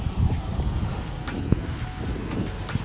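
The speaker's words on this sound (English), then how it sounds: "hopefully you can hear any of this because it's pretty windy" Steady gusts of wind buffet the microphone, giving a continuous low rumble with a few brief thumps and no clear voices.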